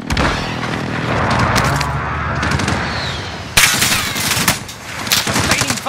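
Shooter video game gunfire: repeated bursts of automatic shots and a sharp heavy crack, loud and near over a constant battle din.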